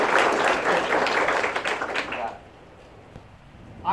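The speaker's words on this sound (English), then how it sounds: "So if we could give a round of applause to the Alzheimer's Association." Audience applause at an Alzheimer's Association event, a dense, loud burst of clapping from a crowd that fades out after about two seconds into quiet room tone.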